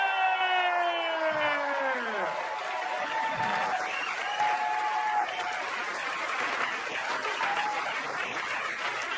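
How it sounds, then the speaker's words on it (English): A comedy club crowd greets stand-up comedian Amy Schumer with loud, continuous applause and cheering, opening with falling, wailing whoops before the clapping settles into a steady roar. "Put your hands together for Amy Schumer!"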